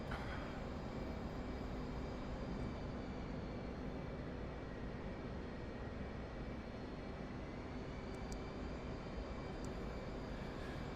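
A fixed-wing military aircraft engine roars at a constant high level as the throttle is advanced, a broad, dense drone filling the whole stretch with no talk over it.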